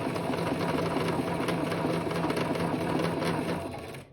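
A sewing machine stitches a menstrual pad at steady speed, a dense continuous mechanical whir with rapid needle clatter, close and loud, easing off and fading out at the very end.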